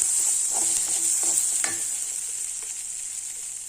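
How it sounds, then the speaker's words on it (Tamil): Ginger, fennel and cumin being stirred together in a pan while cooking a Maharashtrian dahi palak side dish, a steady close sizzle with soft scraping stir strokes and a few light clinks. "நல்லா மிக்ஸ் பண்ணி விட்டுடலாம்"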